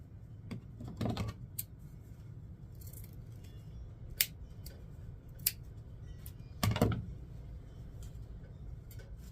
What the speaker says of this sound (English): I'm going to come in and cut them.